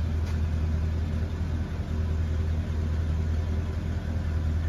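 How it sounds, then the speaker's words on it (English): A 1974 Mercury Marquis Brougham's big-block V8 idles in the evening, a deep, steady, close rumble that pulses gently and keeps an even loudness throughout. "That great sound of the big block in the evening"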